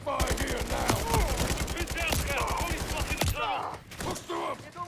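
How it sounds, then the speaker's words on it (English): Rapid automatic gunfire in Call of Duty: Modern Warfare 3, dense bursts of loud shots crackling in a fast rhythm, then breaking off as shouting voices and combat sounds carry on. "We need suppressive fire here now."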